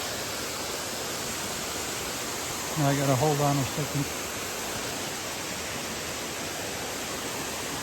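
A waterfall in the Smoky Mountains rushes as a steady, full wash of white noise from a nearby bridge, continuous throughout, with someone speaking briefly over it partway through.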